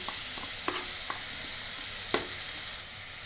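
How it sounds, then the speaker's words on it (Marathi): Cauliflower sautéing in hot oil with turmeric for a dry cauliflower and peas dish, a steady soft sizzle broken by a few sharp stirring scrapes and taps, no speech. "हा थोडा तेलात परतून घ्यायचा। हळद टाकायची"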